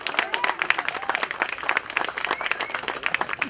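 Crowd applauding at the grand opening of a park, a sustained patter of many hands clapping at moderate volume, with scattered cheers mixed in.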